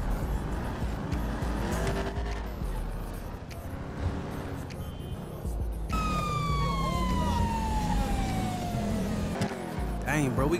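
A police car siren wails over the engine and tire noise of a moving car during a traffic stop scene in a movie. Voices talk over it, and the siren's rising and falling pitch becomes clear halfway through.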